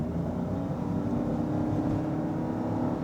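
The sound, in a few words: car accelerating hard from toll booth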